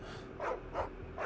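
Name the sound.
dog barking in Final Fantasy XVI video game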